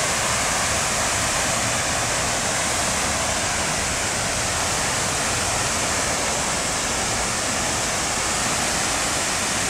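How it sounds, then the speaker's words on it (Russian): Water from the Mirror Stream fountain in central Kharkiv, near the Opera Theatre, rushes and splashes in a steady, dense roar that holds evenly from start to end with no voices. "включили фонтан за зеркальной струей"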